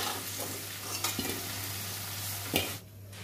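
Potato pieces frying in mustard oil in a wok, a steady close sizzle with a few stirring scrapes and knocks, quieting abruptly near the end.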